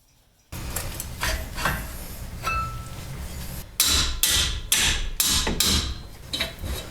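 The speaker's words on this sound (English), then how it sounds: "A hammer and a wrench combined make an impact." Sharp metallic hammer blows on a wrench while working on a vehicle's front end suspension, a series of loud, irregular strikes, several in quick succession, ringing close by.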